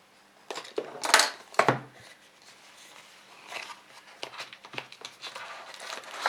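Cardboard and plastic packaging of a DJI Osmo Action camera box being cut open at close range, giving crinkly scraping and snapping bursts with a couple of sharp rustles early, then lighter intermittent tearing and handling noises.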